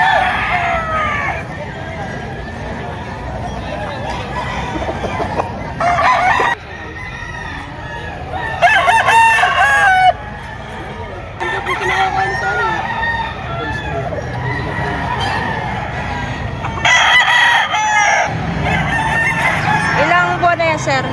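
Gamecock roosters crow repeatedly at a busy poultry market in Padre Garcia, Batangas, several crows rising over a steady background of chatter and crowd babble.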